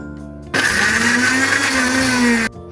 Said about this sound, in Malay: Kita guna blender ya.